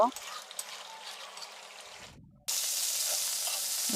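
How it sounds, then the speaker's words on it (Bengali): Eggs sizzle and crackle in a hot pan. The frying is moderate at first and fades slightly, then drops to a brief silence before returning as a loud, steady, close sizzle. "ডিমগুলো রান্না করে নিচ্ছি একটু জাল দিয়ে দুই তিন মিনিট জাল দিয়ে নামিয়ে নেব"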